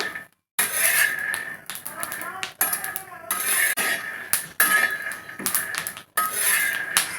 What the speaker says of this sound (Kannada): ಶೇಂಗಾ ಎಷ್ಟು ಚೆನ್ನಾಗಿ ಫ್ರೈ ಆಗ್ತಾ ಇದೆ